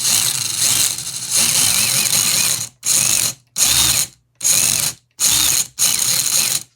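Electric motor of an Axial Capra RC crawler whines and ratchets on a test drive, one long run followed by five short bursts separated by silent pauses, close and loud.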